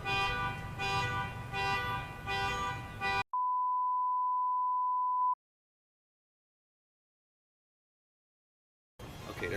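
A car alarm sounds in a steady electronic beep tone lasting about two seconds, preceded by a loud patterned horn-like blare, then silence before noise returns.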